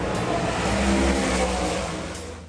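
Loud dirt track race car engines roar and rev continuously, a dense, harsh mechanical drone that swells slightly and then fades toward the end.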